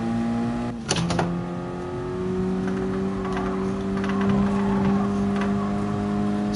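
Nissan R32 GT-R engine in GT Sport at Tsukuba, revving steadily with a brief blip and shift near the start, then a sustained climbing drone as it accelerates out of a corner, loud and close without talk.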